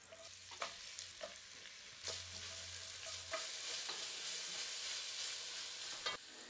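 Red cabbage for a Christmas dish fries in a pan with a steady, hissing sizzle, punctuated by the clatter and scrape of a utensil stirring it at irregular intervals; no one speaks.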